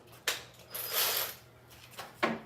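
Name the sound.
ratchet tightening a ground connection on a Jeep Cherokee XJ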